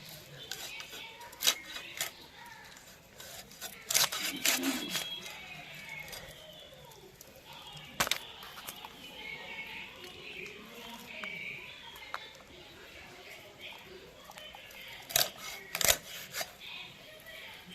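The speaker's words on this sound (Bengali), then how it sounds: "মুড়োটাকে একটু দুভাগ করে দেব তাহলে ভাজতে সুন্দর হবে" A bhetki fish head is chopped in two with a few sharp knife thuds and clinks against a board and dish, separated by quieter handling noises, with a voice speaking intermittently nearby.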